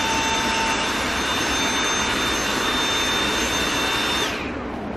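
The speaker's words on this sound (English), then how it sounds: "let me bring in my vacuum cleaner" A vacuum cleaner runs loud and close with a steady whine that cuts off near the end, leaving only a softer background hum.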